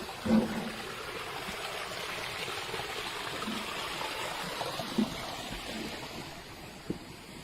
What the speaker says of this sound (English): Talk about water. This is spring water.